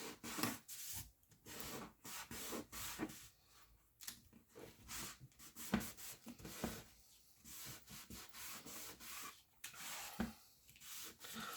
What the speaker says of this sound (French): je gomme juste l'écriture fond de page